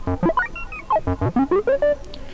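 A MicroBrute synthesizer plays a run of short tones whose pitch, changed with a MIDI dial, jumps up and down in coarse steps, some notes bending as they change, with no talking.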